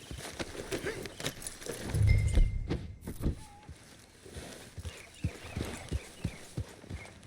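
A horse being ridden in Red Dead Redemption 2 sets off at a trot, its hooves clip-clopping in a steady rhythm with a brief heavier rumble, moderately loud and close.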